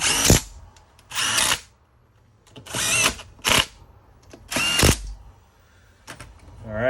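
A power tool snugs down engine case bolts on a Suzuki DRZ 400 during crankshaft and crank bearing replacement, giving five short close whirring bursts separated by pauses and quiet handling noises.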